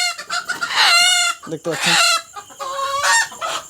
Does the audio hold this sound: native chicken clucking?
yes